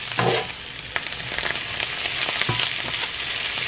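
Garlic sizzles in a hot cast iron pan with the burner off. A steady, close hiss of frying runs throughout, with a few brief clinks or stirring knocks and no talking.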